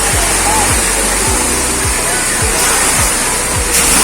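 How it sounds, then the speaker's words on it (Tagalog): Steady broadband rush of flowing water from the Pansol River in Silang, Cavite fills the clip, loud and continuous, with faint low thumps recurring underneath. "Ayan ang ilog."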